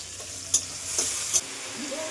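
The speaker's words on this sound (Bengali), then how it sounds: "ইঁচড়টা রান্না করে নেব" Young jackfruit stirred and frying in a pan at home, a steady soft sizzle with a few sharp scrapes of the spoon against the pan, close and fairly quiet.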